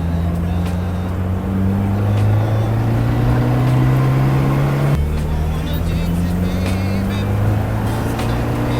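Engine of a British MG Midget MkIV roadster revving as the car takes a corner faster, a droning note that rises in pitch and steps back down partway through, with people talking over it.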